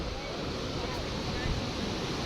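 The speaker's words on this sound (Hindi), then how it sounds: "ये पानी के बढ़िया बढ़िया झरने" Mountain waterfalls on the Amarnath Yatra trail near Sheshnag in Jammu and Kashmir, a steady, loud broadband rush of falling water that fills the whole stretch, with some wind buffeting the microphone.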